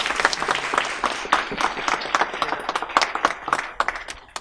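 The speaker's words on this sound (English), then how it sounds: "Please give a big round of applause" Audience applause at a school graduation ceremony at a Sikh academy in Hayes, a moderate crowd clapping steadily with distinct sharp individual claps standing out, continuous for several seconds with no talking.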